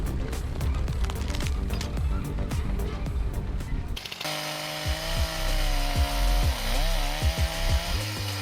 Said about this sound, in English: Watch as the powerful steel MS-361 chainsaw tackles this mature oak, carving through with ease.